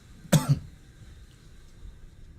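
A single sharp cough from a person who is smoking, a brief loud burst and a softer second hack, then quiet room noise.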